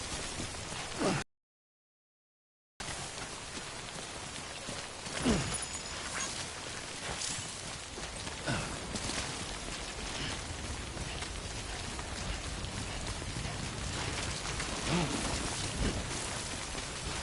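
Rain falling in the video game Death Stranding, a steady hiss of rainfall with scattered droplet patter and soft low rumbles, broken by a brief silent gap near the start.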